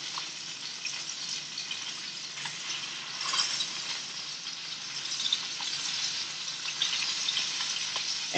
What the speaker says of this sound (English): you have lots of bubbles because it's the soy that is reacting with the oil